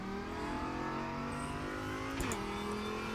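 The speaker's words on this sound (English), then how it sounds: "very much the Audi engine in the back there" Audi R8 LMS race car engine in the Raceroom racing game, loud and close, rising steadily in pitch under acceleration, then briefly dropping at a gear change before climbing again.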